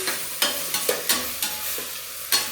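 Sprouted legumes being stirred in a hot pan, with a spoon knocking and scraping at irregular beats over a soft, steady sizzle, close and alone.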